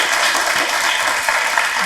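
Studio audience applauding Jaaved Jaaferi, a dense, loud wash of clapping that holds steady for about two seconds with no voices over it.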